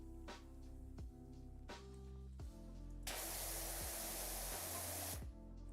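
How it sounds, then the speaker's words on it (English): Spray guns at a car wash blasting recycled water fed back from trays along the floor, a loud steady hiss that starts abruptly midway and cuts off after about two seconds, with mechanical thumps and a low hum before and after. "constantly redirecting it all back into the spray guns."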